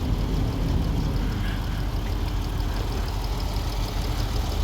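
A 2016 Jeep Cherokee with a 3.2 liter naturally aspirated V6, after a right-rear quarter panel collision, idles at a steady, even drone with no talking.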